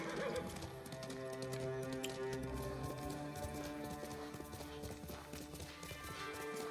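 A horse in the video game Ghost of Tsushima gives rhythmic clip-clop hoofbeats and whinnies over a dense, steady game soundscape that plays throughout.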